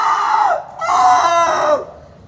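A man at a PG college event in Mohindergarh imitates a rooster with his voice, giving two loud, drawn-out cock-a-doodle-doo calls in quick succession, with a short gap between them.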